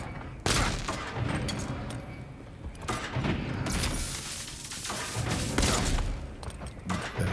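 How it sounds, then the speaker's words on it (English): Gunfire rings out again and again in the video game Avowed, loud close shots fired in quick succession over a dense layer of game sound, with no voices. "I could just keep shooting him"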